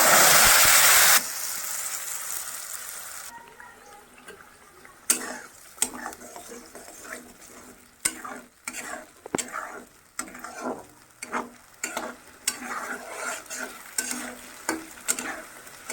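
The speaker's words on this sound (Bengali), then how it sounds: "যেগুলো টমেটো, লঙ্কা, পেঁয়াজ যেগুলো দিয়ে আমি করে পেস্ট বানিয়ে দিয়েছি, সেটা আমি এবার তেলের উপর ঢেলে দেবো" A tomato, chili and onion paste hits hot oil with a loud initial sizzling rush, then settles into softer frying hiss punctuated by sharp spoon clicks and scrapes as it is stirred in the pan.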